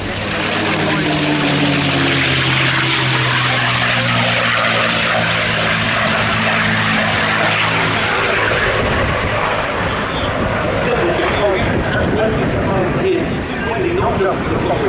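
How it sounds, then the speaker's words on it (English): A P-51 Mustang propeller fighter makes a display pass at the Duxford air show, its engine drone loud and sustained throughout, with a commentator's voice over the public address and crowd noise. "last pass, just extend and display that Mustang coming up."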